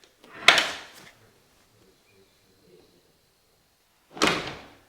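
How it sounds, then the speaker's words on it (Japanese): An antique American door closer brings a door shut, giving two separate bursts of clunking impact a few seconds apart, each loud and close with a short decaying tail, and near silence between them. "ドアクローザーっていうのはドアが開いたままにならないように閉めてくれる"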